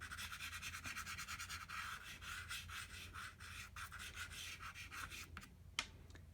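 Pastel rubbed and blended across paper in a sphere drawing, a steady dry scratchy rasping with rhythmic strokes that runs close and continuous throughout.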